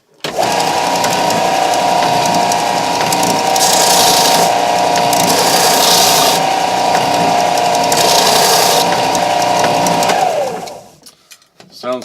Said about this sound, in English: Sounds like it's hitting the brass tube.